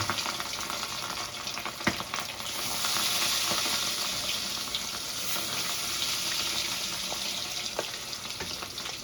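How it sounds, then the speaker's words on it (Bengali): Rohu fish pieces fry in hot oil in a pan with a loud, dense, continuous sizzle and crackle, close by, swelling slightly partway through, with occasional light utensil taps. "তেলটা আমার ভালো করে গরম হয়ে গেছে এবার এক এক করে মাছগুলো আমি ভেজে নেব"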